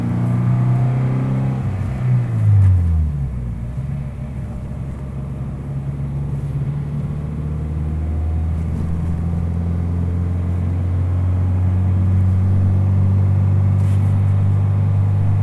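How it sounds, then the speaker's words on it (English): An aftermarket MXP Comp RS motorcycle exhaust with a deep tone revs, drops and settles into a steady low rumbling idle, loud and close, with no talking. "You do get a deeper tone compared to the stock exhaust"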